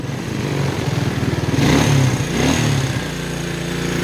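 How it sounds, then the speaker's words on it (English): A 1992 Suzuki QuadRunner 300 ATV engine runs on full choke, chugging in a fast uneven rhythm before being revved up loudly and then settling back to a rough idle, close to the machine. "So I turn the choke on, right? And then press the gas."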